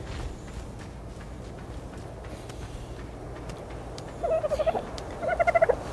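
A dodo bird in the game ARK: Survival Evolved gives two bursts of rapid, gobbling squawks near the end, each a quick stutter of notes over a low background hum.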